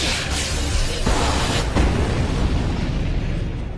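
A loud, sustained cannon-fire explosive rumble from an anime battle scene, with booming bursts around the first two seconds and a dense low-end roar continuing throughout.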